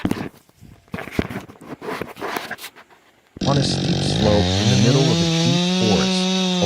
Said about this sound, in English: holding tightly onto a roaring chainsaw. The saw blade dug deep into the tree trunk